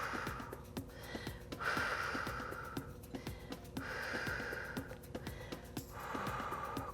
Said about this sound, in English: Continue that breathing.